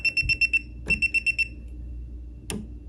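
An electrical tester beeps at a household circuit breaker as power comes back on, two bursts of five rapid, clear high-pitched beeps, then a click, heard close and alone.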